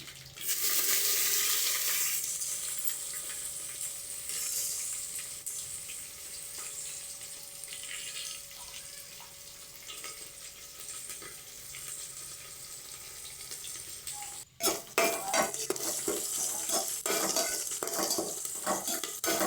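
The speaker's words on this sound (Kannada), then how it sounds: "ನೆಕ್ಸ್ಟು ಕರ್ಬೇವಿನ ಸೊಪ್ಪು, ನೆಕ್ಸ್ಟು ಈರುಳ್ಳಿ ಚೆನ್ನಾಗಿ ಹಾಕಿ ಕಲಿಸ್ಕೊತಾ ಇದ್ದೀನಿ." Curry leaves and onion stirred in hot oil with dried red chillies for a tempering, a steady close sizzle with scraping of a spoon against the pan, growing busier and clattering near the end.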